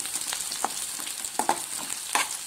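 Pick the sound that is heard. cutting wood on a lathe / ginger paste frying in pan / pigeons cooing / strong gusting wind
ginger paste frying in pan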